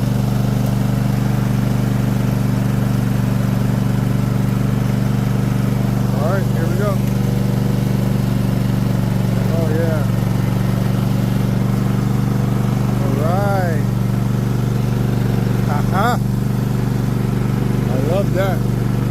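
A Craftsman T8000 riding lawn mower runs steadily at close range, its loud constant engine drone holding through the whole stretch, with a few faint squeaks rising briefly above it.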